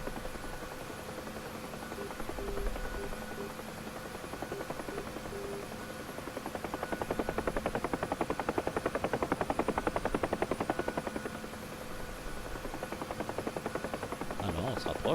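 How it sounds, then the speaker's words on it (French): Huey helicopter rotor in the Digital Combat Simulator game near an aircraft carrier, a steady whirring hum that builds into a rhythmic rotor thump mid-clip, moderately loud, then eases back. "vous voyez ici l'hélicoptère sur votre droite"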